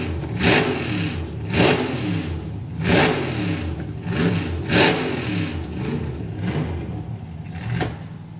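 A supercharged LS engine in a slingshot dragster revs hard at a drag strip, with six or seven loud, closely recorded throttle blips rising and falling in a steady rhythm over a rough, lumpy idle.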